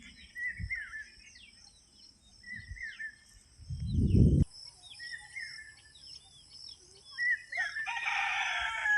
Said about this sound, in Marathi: आपण प्युअर गावरान कोंबडी पालन करतो तर बघू शकता पूर्ण पक्षी फ्री रेंजमध्ये फिरत आहेत